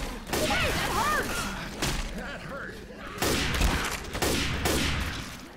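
Gunfire in Left 4 Dead 2 during a No Mercy versus match: repeated loud bursts of shots in several clusters, close and sharp, with game voices and player talk mixed in.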